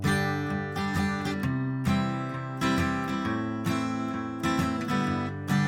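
Acoustic guitar strummed in a folk strumming pattern, chords ringing in repeated groups of down and up strokes with brief pauses between phrases, close and clear with no voice over it.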